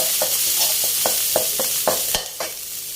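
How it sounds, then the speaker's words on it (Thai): Red curry paste stir-fried over low heat for a spicy catfish dish, with a gentle background sizzle and a quick series of about eight scraping strokes from a spatula against the pan. "ผัดให้หอมเลยค่ะ"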